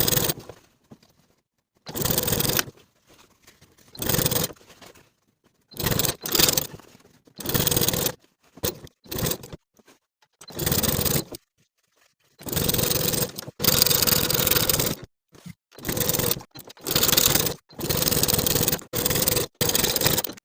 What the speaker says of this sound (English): we're going to top stitch with a 1/4 inch seam allowance